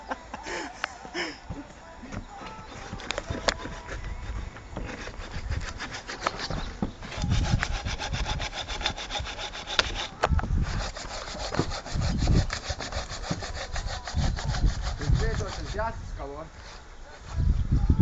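Hand saw cutting wood with a rapid back-and-forth rasp, loud and close in bursts through most of the clip, with people talking intermittently over it.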